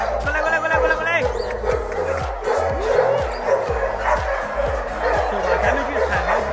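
Several dogs barking close by at a guide dog breeding kennel, rapid overlapping woofs and yips with some whimpering, while someone talks over the noise.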